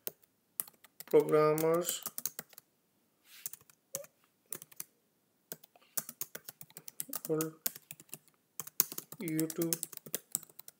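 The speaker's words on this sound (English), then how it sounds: "So let me type something more." A computer keyboard clatters with bursts of quick typing keystrokes, close and crisp, broken by pauses, while a person speaks briefly at intervals.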